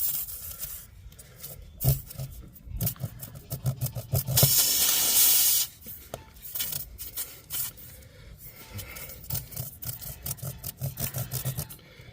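A reamer rasps into a tire puncture hole to prepare it for a plug, giving repeated close scraping and rubbing strokes with one longer, louder hissing grind partway through.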